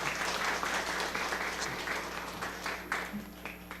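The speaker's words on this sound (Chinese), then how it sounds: "我们也拍手来欢迎他们" A church congregation at a Sunday service claps to welcome new members: dense, continuous applause from a large indoor crowd, steady then tapering slightly, no talk.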